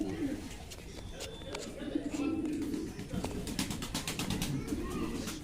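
Newly bought pigeons from Uluberia market coo steadily in low, rolling murmurs nearby while a person talks over them.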